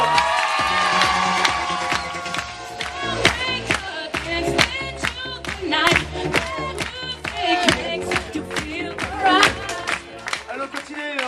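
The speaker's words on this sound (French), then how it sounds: "Je vous demande d'applaudir le responsable Jens, Mr. Romano" An audience of teens and families at a holiday club show claps and cheers for a staff leader, with shouts and whoops over loud, uneven applause and a voice at the start.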